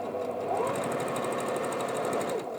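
A sewing machine stitches a leather wallet with a continuous, close, mechanical whir that holds steady throughout.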